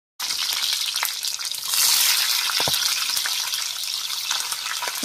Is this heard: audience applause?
no